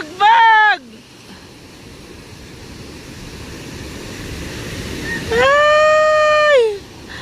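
Ocean surf at a beach rushes steadily and builds toward the end, with loud shouting voices at the start and again near the close.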